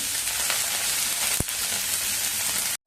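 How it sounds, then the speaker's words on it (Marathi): Spinach leaves for palak paratha fry in hot oil in a pan, giving a loud, steady, close sizzle with one brief knock partway through before it cuts off abruptly. "आता तेल गरम झालेलं आहे आपण पालकची भाजी पॅनमध्ये घालूया"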